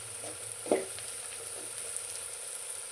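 Ivy gourd (tindora) frying in a pan, a soft steady sizzle with a brief stirring scrape near the start.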